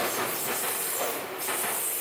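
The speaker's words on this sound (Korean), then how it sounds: "마침 전철이 지나갔어" Tokyo commuter train rushes past nearby, a loud, steady roar of wheels and hissing air with faint clickety rail rhythm filling the whole moment, no voices.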